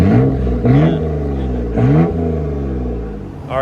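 Nissan Skyline GT-R fitted with a full titanium Tomei rear exhaust, revving hard in a few loud, close blips that rise and fall, then settling into a steady rumbling idle before another rev at the end.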